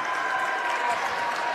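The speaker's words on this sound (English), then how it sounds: "And the crowd goes wild." A men's college basketball crowd erupts in sustained applause and cheering after a three-pointer from the top of the arc, steady and full across the whole moment.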